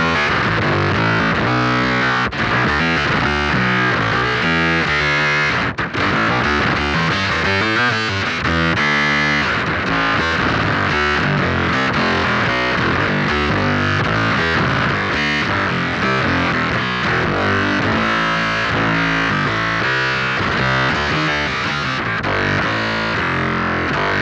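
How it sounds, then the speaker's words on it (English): Bass guitar through a Noise Engineering Dystorpia fuzz distortion, a dense, loud, heavily distorted tone sustained for over twenty seconds with shifting notes and no pauses or talk. "And then this is what the setting sounds like with the Dystorpia."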